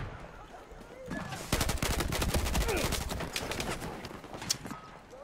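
Rapid automatic gunfire in Battlefield 4, a dense rattling burst of shots lasting a few seconds at close range, with a quieter lead-in and a few trailing shots.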